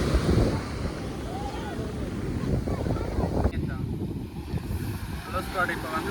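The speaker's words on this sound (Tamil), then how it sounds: "இங்கே பார்த்தீங்கன்னா அப்படியே காற்றுங்க சார்" Wind gusts across Chavakkad beach in Kerala, a rough, continuous rumble buffeting the microphone, with a voice faintly present beneath it.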